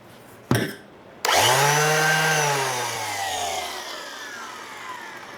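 Cordless sander powered by a CEENR aftermarket battery: a sharp click, then the motor whirs up and runs steadily with a bright, high whine that slowly eases in pitch, close and alone.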